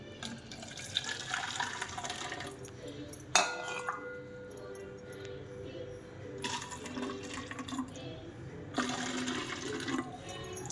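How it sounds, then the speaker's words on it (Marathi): Hot water is poured into two empty cooking-oil bottles in a home kitchen, with gurgling splashes, bursts of running water and glassy clinks against a faint background hum. "आता ह्याच्यामध्ये काय करते थोडं थोडं आधी गरम पाणी भरते"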